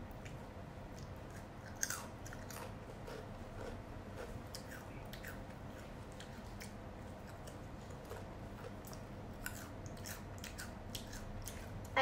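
Close-up crunchy chewing of Mamee spicy prawn and green pepper potato crisps, with repeated crisp bites and crunches at an uneven pace over a quiet background.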